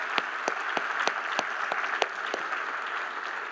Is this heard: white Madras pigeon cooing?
no